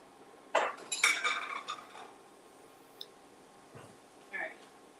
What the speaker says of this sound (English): let me get a little container